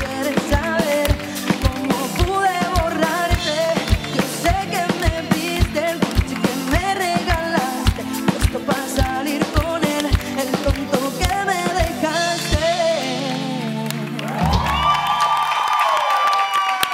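A concert-style audience cheers and claps loudly for a singer, with steady dense applause and whoops over music-like beats, swelling toward a bright burst of crowd noise near the end.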